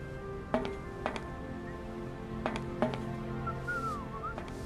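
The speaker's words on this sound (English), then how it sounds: "Oh, I hear whistling." A faint melodic whistle drifts through a steady ambient hum in the game Syberia, accompanied by a few sharp knocks or taps spaced out over several seconds.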